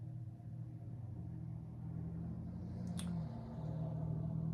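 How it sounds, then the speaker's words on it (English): Low traffic rumble from cars passing outside an open window, distant and steady, with a brief faint tick partway through. "First off, you will hear cars."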